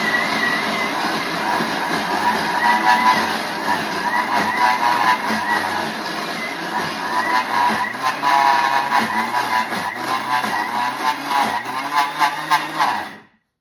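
Thermomix TM6 grinding a Moroccan sellou mixture: a loud, continuous motorised whirring and rumbling that shifts in tone as the mix changes, then cuts off abruptly at the end.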